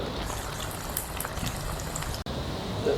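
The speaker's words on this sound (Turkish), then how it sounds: "Burada da sosumuz kaynamaya başladı." Sauce boiling in a pot, a soft, continuous bubbling and popping at low volume with no talk.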